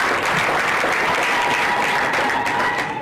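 Sustained applause from an audience at a Kenyan community gathering, a dense even roll of many hands clapping together for the whole stretch with no voices on top.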